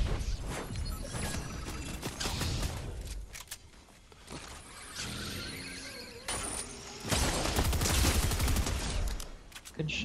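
Bursts of rapid gunfire from an online shooter video game, with dense fusillades and crackling impacts that come and go in waves over about ten seconds, while players chat over voice comms.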